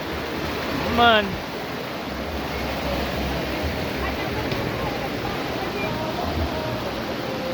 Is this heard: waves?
yes